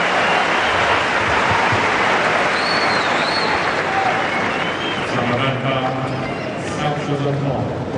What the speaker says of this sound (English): Tsonga has got this crowd buzzing at that.